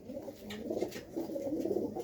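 Blue-barred pigeons being shown for sale give soft, rolling coos close by, two or three phrases over a faint background hiss.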